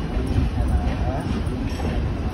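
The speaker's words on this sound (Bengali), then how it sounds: "তো ট্রেনটা খুবই ধীরে ধীরে যাচ্ছে" A train rolls slowly at night on the way to Digha, a low steady rumble heard from inside the carriage with voices talking over it.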